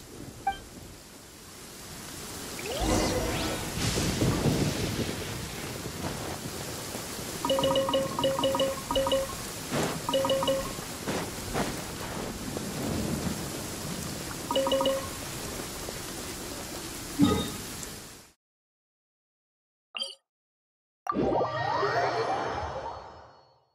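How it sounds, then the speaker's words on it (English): Heavy rain in Genshin Impact pours down as a dense, steady hiss, with a soft chime tone and a few sharper splashes, before cutting out abruptly and returning briefly at the end. "With rain this heavy"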